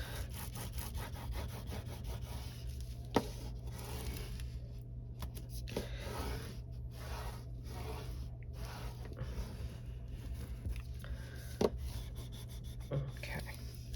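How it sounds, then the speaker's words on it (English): A bone folder rubbed back and forth over a junk journal cover, giving a steady scraping, sawing-like friction under a low background hum, with a couple of sharp taps. "then I'm gonna take my bone folder and rub."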